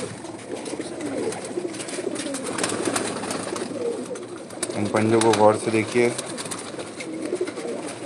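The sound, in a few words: pigeons cooing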